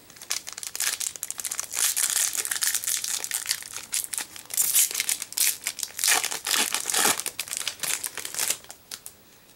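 A Pokemon Steam Siege card pack wrapper crinkles and tears, with dense, irregular bursts of foil crackling close to the mic that run continuously for several seconds, and no talking.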